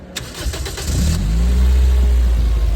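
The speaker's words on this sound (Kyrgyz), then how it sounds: "Эми бул баскыч менен от алдырабыз." A large quad bike powered by a 1.5-litre four-cylinder Toyota Corolla engine cranks with a short burst of starter whirring, then catches and settles into a loud, deep, steady idle close by.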